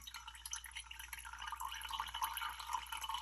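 Coffee drains through a filter into a cup while making cold brew at home, a faint, continuous trickle with soft irregular drips and splashes over a low background hum.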